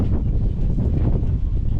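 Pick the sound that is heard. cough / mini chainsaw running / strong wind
strong wind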